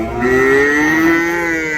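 A cart bull moos at a cattle market near Uthangarai, one loud sustained low call with rising harmonics lasting well over a second, close to the listener with no talk over it.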